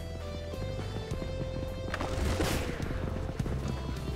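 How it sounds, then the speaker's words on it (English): A horse in the video game Knightfall: A Daring Journey moves with a steady clip-clop of hooves amid game ambience and faint distant gunfire, with a brief whinny-like rise in the middle. "Oh, there's a horse."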